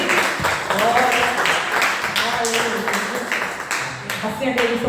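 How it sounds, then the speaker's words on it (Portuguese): A church congregation at a Mother's Day worship service claps in praise, a steady wash of applause that continues for the whole clip, with voices mixed in. "e as palmas louvam ao nosso Deus, Senhor."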